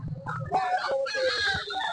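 Chickens and a rooster at a duck and chicken poultry market cluck and squawk in a busy, close jumble of overlapping calls, with one drawn-out crowing cry.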